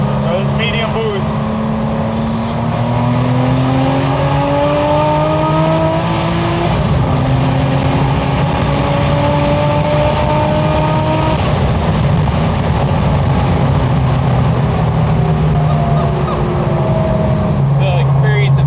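HKS-tuned Nissan R34 GT-R turbo engine pulling hard at medium boost on a Tokyo highway at night, a loud continuous rising drone that shifts pitch through gear changes, with wind and road roar throughout.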